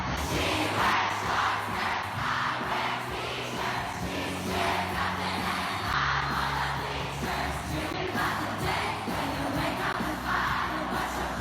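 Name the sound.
crowd at a mall performance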